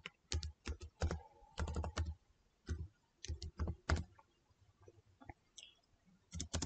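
Fast clattering keystrokes on a computer keyboard typing a website name, close and crisp in short bursts separated by brief pauses.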